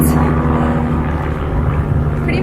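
Low-flying airplanes passing overhead near an airport, a steady broad engine roar with low droning hum, close and loud throughout.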